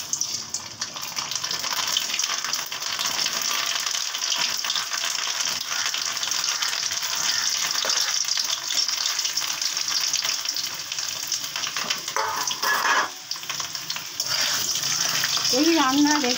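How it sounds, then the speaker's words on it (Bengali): Cauliflower florets, boiled in salted water beforehand, fry in a pan with cardamom and cloves for a white cauliflower rezala, giving a steady broadband sizzle throughout with some stirring and clatter near the end. "এটাকে একটু ফ্রাই করে নিচ্ছি।"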